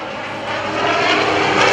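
An F4U Corsair propeller warbird performing aerobatics at the 2011 Boston Portsmouth airshow, its piston engine roaring loud and steady as it passes, swelling slightly toward the end.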